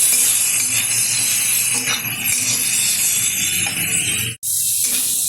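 Cut, peeled water lily stems (shapla) being stirred in a hot pan over high heat for a lentil dish, giving a steady hiss and sizzle throughout, broken by one brief drop near the end.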